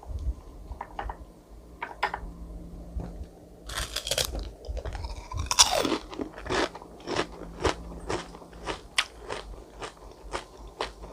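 Crispy fried BBQ chicken skin dipped in garlic mayo and a soy sauce with minced chili crunches loudly at close range with a sharp bite, then steady rhythmic chewing crackles continue alone.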